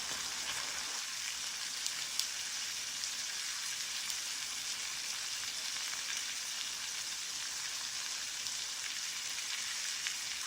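Steak and potatoes fry in a hot pan at about 400 degrees while a pat of butter spread melts over them. A close, even sizzle crackles steadily throughout, with no voices.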